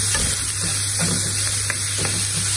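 Meat fries in a pan for ginisang ampalaya. A constant sizzle runs under a handful of soft, scraping stirs, close up and with no one speaking.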